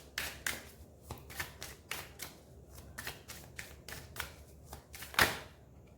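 Tarot cards shuffled and drawn by hand, a run of quick, crisp papery riffles and taps in steady bursts, close and fairly quiet, ending with one sharper slap as a card is pulled.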